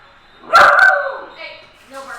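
A dog barks once or twice in quick succession, a short, sharp yelp close to the microphone, over the sound of a Dodgers versus Diamondbacks playoff baseball game broadcast, followed by faint murmuring.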